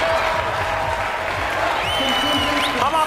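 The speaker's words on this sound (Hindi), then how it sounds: "दर्शकों द्वारा जोरदार तालियों से उनका स्वागत" A stadium crowd applauds and cheers as the Indian contingent enters at the Commonwealth Games, a dense continuous roar of clapping under a voice speaking over it.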